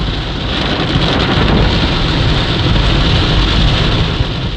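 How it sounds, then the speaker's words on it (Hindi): Heavy rain pours steadily in Corbett National Park, a dense, loud, unbroken hiss with a deep low rumble underneath and no voices. "बारिश हो रही है"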